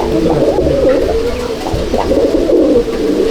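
Andhra pigeons in a loft at Halisahar coo loudly and nearly without pause, several birds overlapping in a dense, close, rolling murmur.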